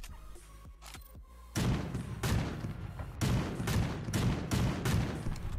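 Gunfire in the video game Creative Destruction: a few light clicks, then a steady series of loud, close shots at a brisk, uneven rhythm.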